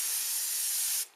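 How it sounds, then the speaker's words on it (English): A single continuous hiss of a spray adhesive aerosol can lasting about a second, close and fairly loud, then cutting off abruptly. "spray the ugly side again with your adhesive"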